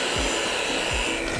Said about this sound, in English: we're going to mix it up again. And this, you really need a strong mixer to do this